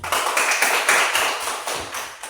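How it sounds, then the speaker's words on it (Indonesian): A group bursts into steady, dense applause for Esna, a close, continuous patter of many hands that lasts without a break and has no talking over it. "Tepuk tangan untuk Esna"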